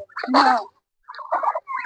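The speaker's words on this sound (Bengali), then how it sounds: "এইটা 3 হাঁস আছে" Two short bursts of nasal, honking calls from ducks, separated by a brief silence, sound close and fairly clear with no other noise around them.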